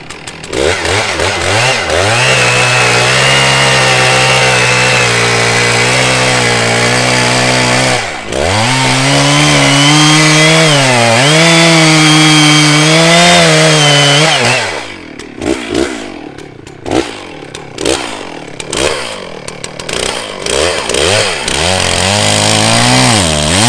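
A chainsaw engine roars loudly and steadily, its pitch rising and dipping as it is throttled, then sputters into rough, uneven idling near the end.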